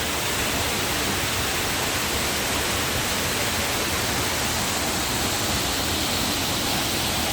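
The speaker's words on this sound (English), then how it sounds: "it's a hell of a drop through this country to have several waterfalls" Waterfall along the Overland Track in Tasmanian wilderness, a steady dense roar of falling water filling the whole stretch evenly and loudly, with no voices over it.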